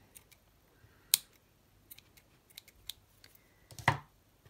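Scissors snip crochet yarn while finishing an Easter egg decoration, giving a couple of sharp, faint clicks amid quiet handling sounds in a still room.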